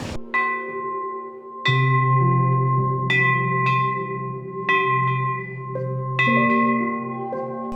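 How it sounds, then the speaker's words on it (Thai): Temple bells at a hilltop Thai temple with chedis are struck one after another: about eight ringing metallic strikes, each blooming and decaying into the next, close and fairly loud with no talking. "จะเคาะระฆังไหมเป็นแถว"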